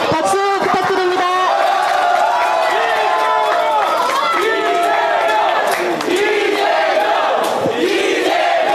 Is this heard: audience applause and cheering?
yes